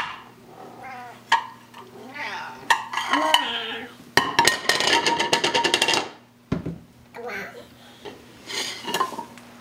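Hungry cats meowing at feeding time in a home kitchen, with bowls and cutlery clattering and a burst of loud clinking in the middle, while people talk nearby.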